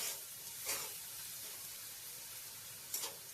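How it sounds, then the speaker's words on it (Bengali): Salted vegetables sizzle in a pan as they are stirred, a low, quiet frying hiss broken by two brief louder scrapes of the spoon, with no voices. "লবণটাকে দিয়েও ভালো করে নাড়িয়ে চাড়িয়ে নেব"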